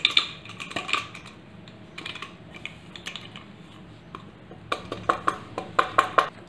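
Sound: mixing salt and spice powders in a bowl

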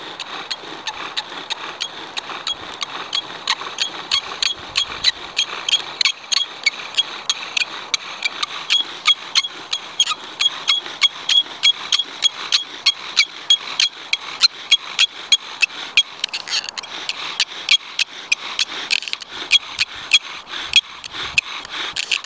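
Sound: bow drill spindle spinning in a chaga fire board

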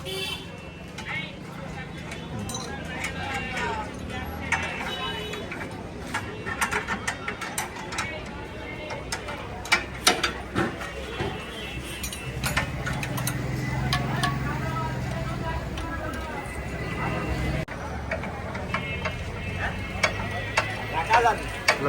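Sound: belt being tightened on a Dongfeng power tiller

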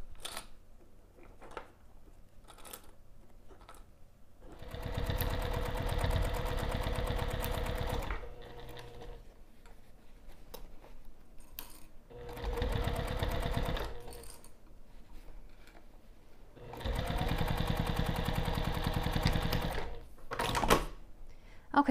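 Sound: sewing machine stitching fabric binding

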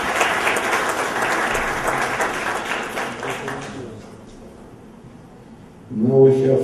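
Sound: audience applause at business awards ceremony

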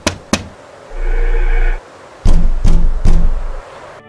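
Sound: three knocks on a temple door, Masonic initiation rite

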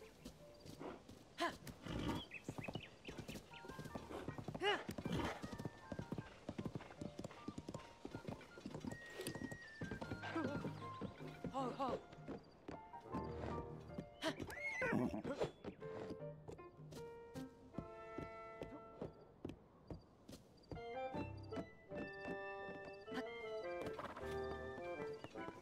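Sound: horse neighing and hooves clip-clopping in Zelda: Tears of the Kingdom video game

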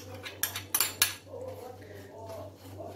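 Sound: spoon mixing crushed biscuits with melted butter

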